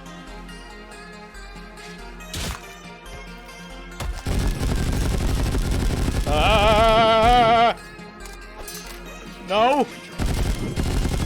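Cartoon combat gunfire from Madness: Project Nexus in heavy sustained bursts, mixed with warbling synthetic game effects, while someone shouts briefly.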